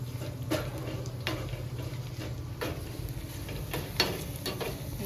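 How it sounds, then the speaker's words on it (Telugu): Tempering spices and lentils fry in oil in a pan for Andhra-style tomato dal, a soft continuous sizzle with occasional stirring taps and scrapes, quiet and close. "ఈ పోపు బాగా ఫ్రై అయితేనే టేస్ట్ బాగుంటుంది."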